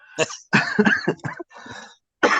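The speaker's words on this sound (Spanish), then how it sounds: "durante el tiempo que estemos juntos voy a estar con algo de tos" A person with a lingering cough lets out several short, harsh coughs in quick succession, close and clear, with brief pauses between bursts and no talk.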